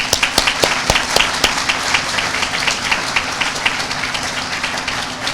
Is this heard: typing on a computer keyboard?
no